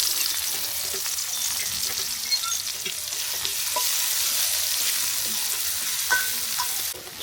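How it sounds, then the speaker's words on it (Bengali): Onions fry in a pan with a continuous bright sizzle and occasional stirring scrapes, steady and close, with no talking. "আমার পেঁয়াজ ভাজাটা হালকা বাদামি হয়ে আসছে"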